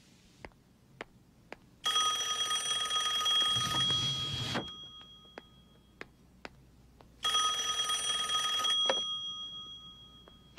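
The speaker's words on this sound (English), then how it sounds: "I must get the phone." Telephone bell rings in two long bursts separated by a pause, loud and close, with faint clicks between rings and no talking.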